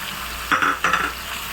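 Wheat flour sautéing with tomato in ghee for tomato halwa, a steady close sizzle broken by two short bursts of stirring scrapes in the pan.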